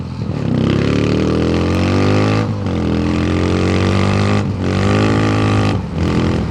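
A fully modified Suzuki Fiero four-gear motorcycle roars loud and close while riding, its engine revving hard in sustained bursts with brief dips between pulls.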